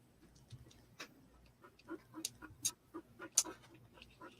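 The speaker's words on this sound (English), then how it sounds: "You're panting." A dog that is unwell panting softly indoors, quick faint breaths in an uneven rhythm with a few sharp ticks and clicks nearby.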